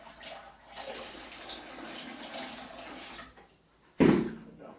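Water in a concrete mix washes and swishes for several seconds, then a short, louder splash sounds as the excess water is poured out.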